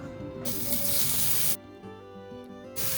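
Sliced mushrooms frying in oil in a pan, bright bursts of sizzle that cut out briefly and return, over a faint low hum.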